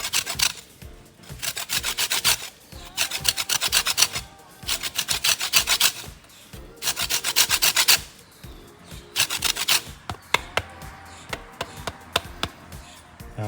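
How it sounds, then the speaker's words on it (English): A lemon is zested in quick rasping strokes over a grater, bursts of scraping separated by short pauses, close and clear with no talking. "I'm gonna add about a teaspoon of lemon zest."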